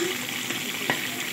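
About 1.5 kilograms of onions sizzling in hot cooking oil for chicken biryani, a steady loud frying hiss with a faint stir, close by and without speech.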